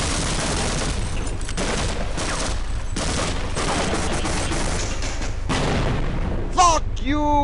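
Half-Life gameplay with grenade blasts and rapid gunfire, a dense continuous barrage of loud booms and shots, ending in sweeping synthetic tones.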